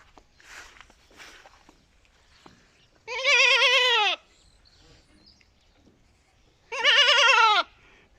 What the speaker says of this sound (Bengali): এই যে ছাগল আলাদা করে থুইছে